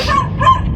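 Dogs bark by Manila Bay, two quick close yips in a row over a steady low background rumble.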